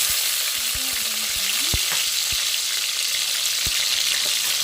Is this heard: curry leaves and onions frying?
yes